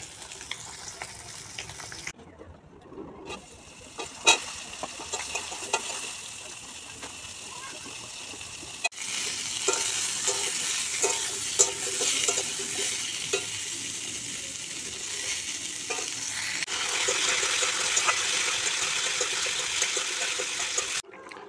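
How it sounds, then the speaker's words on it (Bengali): Pieces of fish frying in a pan over a clay stove outdoors, a continuous hissing sizzle that swells louder toward the end, with occasional clatter and brief quiet gaps. "এই যে 3 পিস মাছ ভাজা হয়ে গেছে, আর এখানে 2 পিস ভাজছি।"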